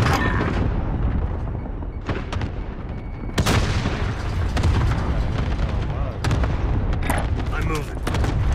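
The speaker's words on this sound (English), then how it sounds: "Allied cluster strike inbound." Cluster strike explosions in Call of Duty: Modern Warfare, a string of heavy booms and sharp blasts in quick succession over constant rumbling battle noise, loud and close.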